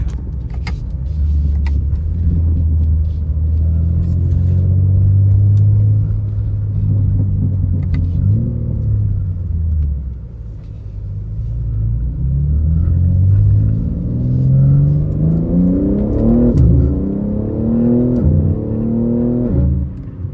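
A 2025 BMW G80 M3 LCI engine revs up and down with a deep, loud rumble in Sport Plus mode, the pitch rising and falling several times over a steady idle.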